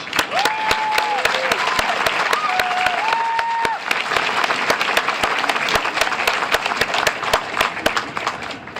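A large audience at a Marine Corps Recruit Depot San Diego family day and graduation applauds Marine families, producing steady, dense clapping with a few whistles and whoops early on.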